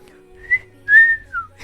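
A voice imitates a sloppy, poorly executed wolf whistle: a short rising whistle note, then a longer sliding two-part whistle, loud and close with no speech.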